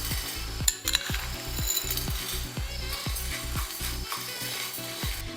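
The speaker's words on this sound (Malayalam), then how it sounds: "ഇനി നമുക്ക് ആദ്യം തന്നെ അരി വറുത്തെടുക്കാം" Rice dry-roasting in a pan for a mushroom curry, a steady dry rustle and scrape with regular rhythmic strokes of a spatula against the pan, close and fairly loud, no voices.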